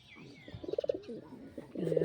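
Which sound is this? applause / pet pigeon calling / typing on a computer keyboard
pet pigeon calling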